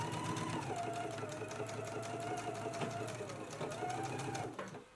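Stitching a dress seam at a 5/8-inch allowance, a sewing machine hums close and steady with a fast, even needle rhythm and a whining motor tone, winding down at the end.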